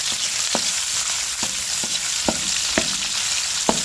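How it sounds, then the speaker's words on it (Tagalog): Chili peppers sautéed with onion in a pan, a dense bright sizzle running throughout, punctuated by a regular series of sharp spatula taps and scrapes, no voices. "Pag nagisa po yung sili"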